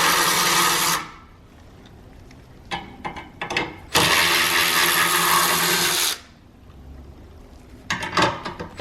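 A power ratchet undoes the mounting bolts of the forward collision sensor on a 2017 Nissan Rogue Sport, sounding as loud, whirring bursts of a few seconds each, separated by quieter pauses with short taps.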